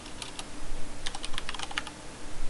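Login credentials typed on a computer keyboard, quick bursts of crisp key clicks with a short pause between them, close up over a steady background hiss.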